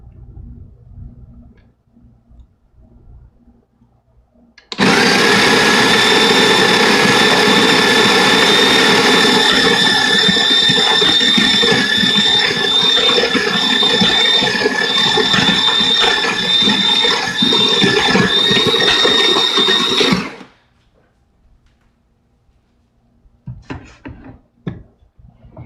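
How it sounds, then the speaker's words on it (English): A grinder runs loud and close with a steady high-pitched whine and mechanical rattle for about fifteen seconds, starting and stopping abruptly, with quiet handling noises before and after. "gonna run my grinder."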